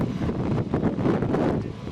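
Gusty wind on Canoe Mountain buffeting the microphone, a rough low rumble that swells and fades over a couple of seconds.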